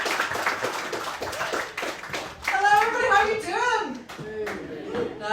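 Studio audience at a comedy night claps and cheers as a comedian is introduced, the applause dense and steady, a voice briefly rising above the crowd midway.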